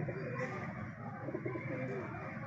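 A female pigeon coos softly and repeatedly in a low, rolling tone, set against a steady background hum with no clear talking.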